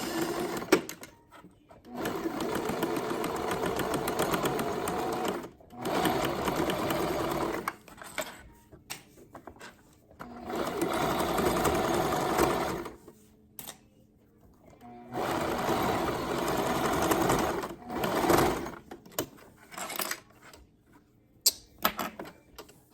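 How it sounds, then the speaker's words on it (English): A home sewing machine runs in several long bursts of rapid mechanical stitching, loud and close, separated by short pauses and brief stop-start stitches, with no talking. "my sewing machine is acting wonky"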